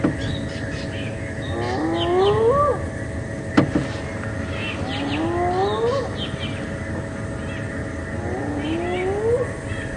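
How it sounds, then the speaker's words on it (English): Spotted hyena whooping in the wild on a night safari drive at Djuma Game Reserve, a series of rising, drawn-out calls repeated three times at moderate distance over a steady background of insects and vehicle hum. "another hyena's calling, get the volume up"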